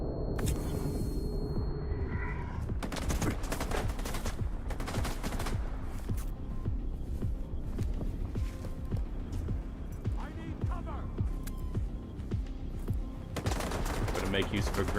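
S.T.A.L.K.E.R. 2 gunfire, dense bursts of automatic weapon fire and repeated shots over a constant low hum, mixed loud and close throughout.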